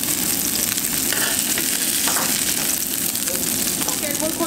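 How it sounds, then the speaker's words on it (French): Meatballs browning in olive oil in a pan, giving a loud, steady frying sizzle with crackling spatters that runs unbroken throughout. "on va faire cuire du coup l'huile d'olive dans une poêle et on va y faire dorer nos petites boulettes"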